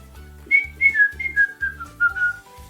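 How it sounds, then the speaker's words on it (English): A zookeeper whistles a short melodic tune in bright, clear notes that step gradually downward, over a soft rhythmic musical backing. "I hear a zookeeper whistling in my ear"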